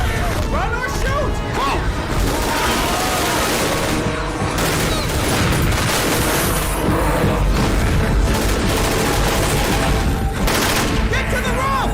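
Continuous, loud gunfire and booming blasts from the video game Left 4 Dead sound without a break. Crashes and scattered voices are mixed in underneath.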